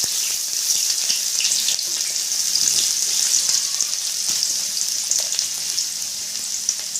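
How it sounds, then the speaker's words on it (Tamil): Cut onions fry in hot oil in a kadai, giving a loud, even, hissing sizzle that runs steadily throughout with faint crackles and no speech. "எண்ணெய் காஞ்ச பிறகு நம்ம கட் பண்ணி வச்சுருக்கேன் வெங்காயம் சேர்த்துக்கு."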